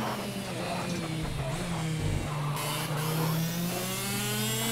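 A race car engine in the Project Cars racing game revs and accelerates with a sustained, rising, loud drone that swells and pulls through the gears.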